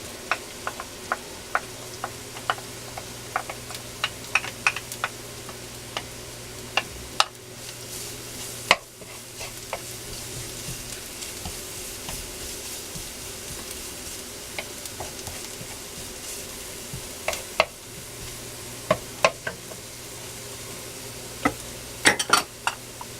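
Garlic sautéing in a pan for tochong bangus with black beans and tofu, a soft steady sizzle with scattered ticks and scrapes of stirring, close and fairly quiet, with no voices.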